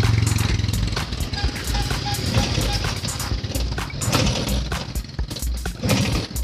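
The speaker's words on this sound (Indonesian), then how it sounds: "Permasalahannya ini cukup simpel, yaitu di suara mesin, bunyinya mesin kemerasak." A Vespa scooter engine with a right-side motor runs nearby with a busy mechanical clatter, rapid rattling ticks over a steady loud drone.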